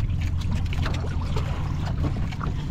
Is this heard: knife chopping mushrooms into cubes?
no